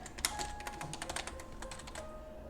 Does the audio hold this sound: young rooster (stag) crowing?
no